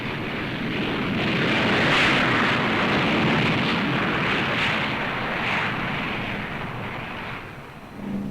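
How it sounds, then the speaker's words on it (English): A North American B-45 Tornado, an early four-jet bomber, roars past in flight with a loud, sustained broadband jet rumble that swells and holds steady before easing near the end. "The Air Force B-45, the Tornado bomber, was the first four-jet airplane to fly in the United States."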